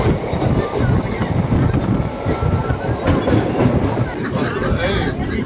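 The 13187 Maa Tara Express from Kolkata toward Bolpur Shantiniketan rolls through Bidhannagar station without stopping, heard from on board as a loud continuous rumble with steady wheel clatter and rail noise throughout.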